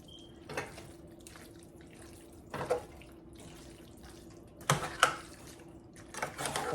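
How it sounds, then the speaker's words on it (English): Wet sauce is stirred in a pot at home, giving quiet scattered squelching strokes with a few louder wet bursts and no talking. "I'm just gonna stir this up for now"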